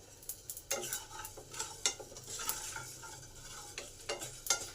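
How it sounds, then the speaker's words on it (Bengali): Spices dry-roasting in a pan, a faint bed of crackling with scattered sharp clicks and scrapes of a spatula, quiet and close, no speech. "এই যে চড়বড় করে আওয়াজ হচ্ছে, এটাতেই বুঝে নিতে হবে মশলাগুলো আমার ভাজা হয়ে গেছে"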